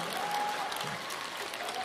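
A theatre audience at a Deyun Society crosstalk comedy show in Beijing claps in dense, sustained applause that holds evenly through a short burst.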